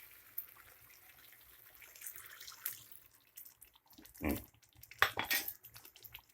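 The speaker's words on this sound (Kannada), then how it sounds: "ನಾನು ಇಲ್ಲಿ ಜಾರ್ಗೆ ಸ್ವಲ್ಪ ನೀರು ಹಾಕ್ಕೊತಾ ಇದ್ದೀನಿ." Water is poured into a mixer jar while making a village-style chicken chops gravy, heard as faint splashing and clinking that swells into two short bursts near the end of an otherwise quiet kitchen.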